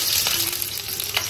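Vegetables hitting hot oil for veg dum biryani, a loud, dense, close sizzle that holds steady with a couple of brief spatters.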